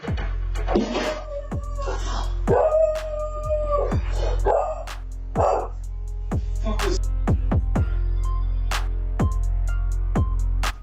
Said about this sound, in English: Got the dog all riled up.